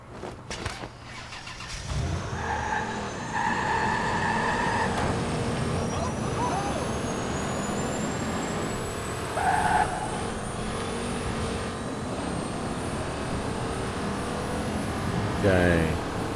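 A car engine in Watch Dogs 2 on PS4 starts up and holds a steady loud drone, with a rising whine and brief revving bursts layered over it while people talk.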